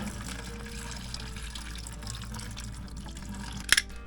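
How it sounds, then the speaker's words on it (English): Water runs and trickles steadily from a whole-house water filter in a crawl space, like a small stream pouring out, with a brief clink near the end. "There's the water. There it goes."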